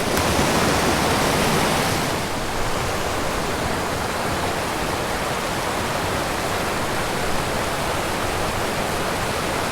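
Mountain stream rushing over boulders, a loud, steady broadband roar of flowing water that continues without a break, close to the mic and with no voices.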